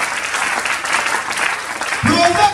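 Church congregation applauding, a dense loud burst of clapping that carries through to the end, with a voice rising over it in the last half second.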